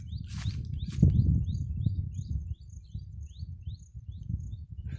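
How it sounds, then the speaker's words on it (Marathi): Birds chirp in quiet countryside, a repeated series of thin, high tweets at an even rhythm over a low rustling background, with a couple of louder rushing bursts early on. "तुम्ही ऐकू शकता पाखरांचा आवाज"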